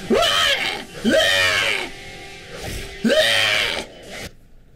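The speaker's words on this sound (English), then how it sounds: "what kind of fucking scream is that?" Three drawn-out, wavering screams ring out one after another, loud and close, with an electronic, game-like quality and brief pauses between them.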